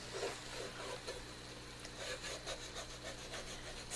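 French onion soup being stirred in a pot, a spoon scraping across the bottom in repeated rubbing strokes, close and fairly quiet over a steady background hum.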